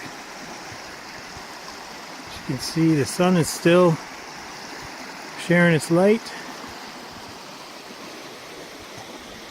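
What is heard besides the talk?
creek water flowing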